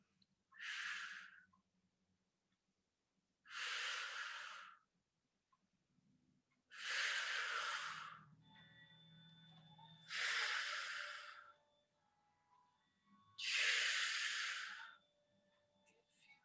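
Five strong, breathy exhalations with quieter inhales between them, spaced about every three seconds in a steady exercise rhythm during sciatica relief exercises, close and alone with faint hum underneath.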